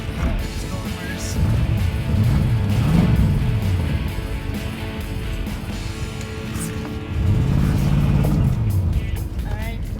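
A 5.0 Ford Mustang Fox body with four-eye front end reverses, its engine rumbling low and steady and swelling twice as it moves, close to the listener with people talking nearby.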